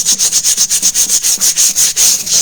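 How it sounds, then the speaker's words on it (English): Rhythmic scrubbing of dirty embossing plates, a steady back-and-forth rub with bright hissy strokes repeating about five times a second, close and loud with no talking. "I hope that scrubbing sound isn't going to make my video"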